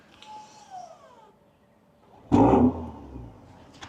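A 2027 BMW M440i xDrive fires up by remote start: after a few quiet seconds, a sudden loud burst of engine cranking and catching is heard close by, then it settles to a softer idle.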